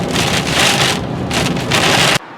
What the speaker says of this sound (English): Oh, enjoy the rain